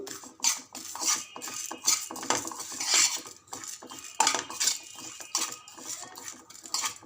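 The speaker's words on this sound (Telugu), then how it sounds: "అంతా మంచిగా కలుపుకొని స్టవ్ ఆఫ్ చేయాలి" Roasted dal and coconut powder being stirred in a pan for a Telugu stuffed brinjal curry, with a spoon scraping and clinking against the metal in quick irregular strokes, close and moderately loud, with no talking.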